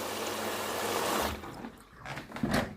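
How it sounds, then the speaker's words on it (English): Water running into a washing machine drum during a rinse cycle, a steady rushing trickle that fades and briefly dips before splashing up again near the end, with no voices. "You can look in there and see there's water going in there"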